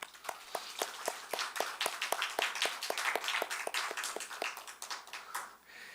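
A church congregation at a Sunday service claps in quick, even unison, a steady rhythmic applause heard up close that fades off at the end.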